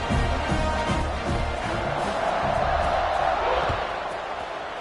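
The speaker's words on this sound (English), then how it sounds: "this crowd is buzzing after that last score" Football stadium crowd at a college game buzzing steadily after a touchdown, a loud continuous roar of many voices with scattered shouts throughout.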